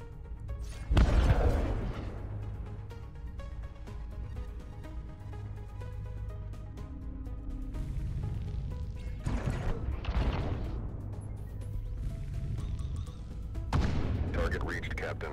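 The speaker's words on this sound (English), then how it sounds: "we'll block that and fire the missiles" Missiles launch in the space combat game Breachway: a sharp burst near one second, then more booming launches around ten and fourteen seconds over a steady low hum and game music.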